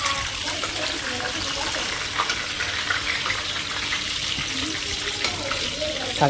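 Bhaji batter frying in a pan of hot oil in a home kitchen, a steady close crackling sizzle running unbroken throughout with small bursts of spitting oil.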